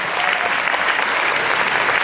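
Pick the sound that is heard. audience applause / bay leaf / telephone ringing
audience applause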